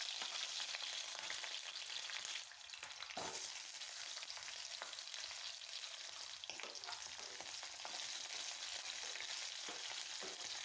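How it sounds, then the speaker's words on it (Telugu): Cumin seeds and green chilies fry in hot oil in a steady, close sizzle with crackling pops, and occasional stirring scrapes break through the hiss. "ఆయిల్ కాస్త వేడయ్యాక అందులోకి జీలకర్ర పచ్చిమిర్చి వేసి వేపుకోవాలి"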